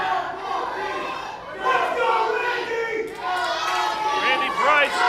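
An indoor IZW independent wrestling crowd reacting to wrestler Randy Price, a dense mass of shouting and jeering voices that swells and falls, with individual yells rising out of the din.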